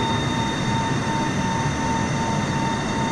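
Boeing 747-8i jet engines roar at takeoff power in a flight simulator, a loud, steady, continuous broadband rush with a thin high whine running through it.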